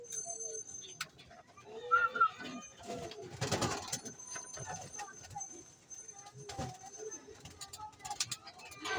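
Racing pigeons in a loft give soft, low cooing calls amid rustling, flapping and handling noises, with someone talking over them at times.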